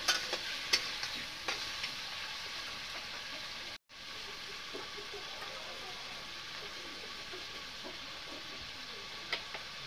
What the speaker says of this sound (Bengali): আর মিক্স মশলা পরিমাণ মতন। এমনি নাড়াচাড়া করে নিচ্ছি